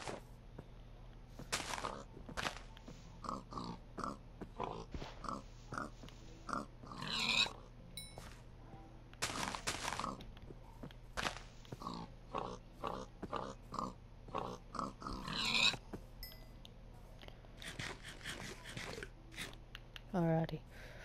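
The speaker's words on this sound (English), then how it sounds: "Oh, there's a lot of pigs." Pigs in a video game grunting and oinking in short bursts, some squeals, with a low steady hum underneath and occasional crunching.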